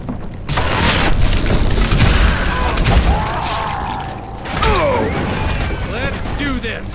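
Dynamite blast in Call of Juarez: Gunslinger, a loud booming burst followed by rumbling debris and clattering mechanical noises, with a second swell of impact a few seconds later.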